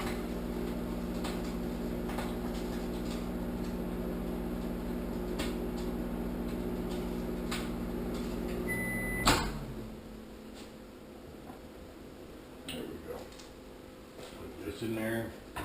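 A microwave oven hums steadily with a faint ticking while bacon cooks inside, then cuts off sharply with a click, followed by quieter handling and a door being opened, close by with no speech.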